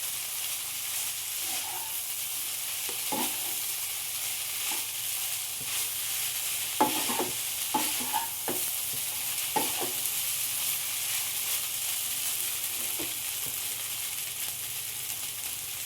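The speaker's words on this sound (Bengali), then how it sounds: "আবারও আলুর টুকরোগুলো দিয়ে ভালো করে নাড়াচাড়া করে নেব।" A spatula stirs potato pieces through poha in a pan, giving irregular scrapes and taps over a faint, continuous sizzle, with no talking.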